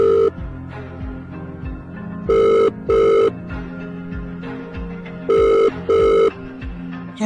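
A telephone bell rings in short doubled bursts, two rings, a pause, then two more, loud and close, with no talk over it, in a Bengali drama scene.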